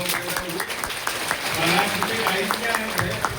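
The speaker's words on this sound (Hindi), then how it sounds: "चलो सब लोग ताली बजाओ।" A crowd claps together at a Krishna birth celebration, a fairly loud, steady rhythmic applause that carries on throughout, with voices talking over it.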